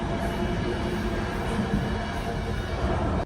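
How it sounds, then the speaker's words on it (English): Loud, steady rumble of a train being loaded onto a ferry, a dense continuous roar of rolling wheels and machinery with no pauses, heard from inside the train. "I was woken up by the noise of the train being stowed away on the ferry"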